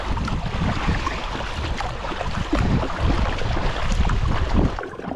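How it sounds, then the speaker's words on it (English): Canoe paddled across a lake in gusty late-September weather, with continuous wind buffeting and water swishing close by, fairly loud and steady and no talking. "Paddling across the lake."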